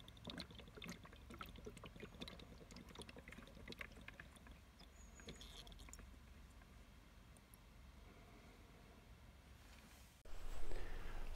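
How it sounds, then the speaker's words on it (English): Water draining from the drain cock at the bottom of a diesel fuel tank, a steady trickling pour that runs continuously at close range, with a louder burst of flow near the end. "So all we have to do now is open the drain cock and drain it out."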